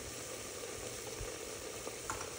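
Onions fried with turmeric in a pan, stirred while they brown for a paya soup, give a steady low sizzle with soft scraping of the stirring, fairly quiet and continuous with no talking.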